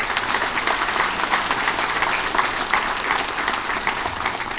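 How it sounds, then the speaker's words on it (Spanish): Attendees at an association convention applaud in a sustained, even round of clapping that fills the room for several seconds. "Quiero un aplauso por el esfuerzo."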